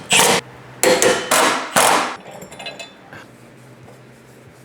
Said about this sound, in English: Tighten this subframe bolt down all the way.